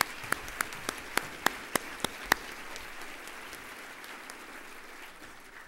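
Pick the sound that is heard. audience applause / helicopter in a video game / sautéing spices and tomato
audience applause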